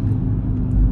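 Audi TT-RS MK3 five-cylinder engine rumbling loud and close at around 70–80 km/h, a deep steady drone with a slight swell at the end.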